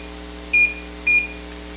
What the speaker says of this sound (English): I'm going to set the timer for 11 minutes